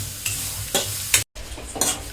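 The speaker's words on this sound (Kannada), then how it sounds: "ಅಲ್ಲಿ ತನಕ ಫ್ರೈ ಮಾಡ್ಕೋಬೇಕು" A spoon scrapes and stirs food frying in a pan at home, making a few distinct stirring strokes spaced roughly half a second apart over a soft sizzle, with a brief cut to silence midway.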